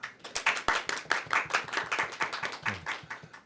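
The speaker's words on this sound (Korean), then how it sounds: "박수를 크게 치셔야지 저 동영상에" Applause from a small audience of about fifty at an academic conference session, a close, fairly quiet patter of individual hand claps in a loose, uneven rhythm.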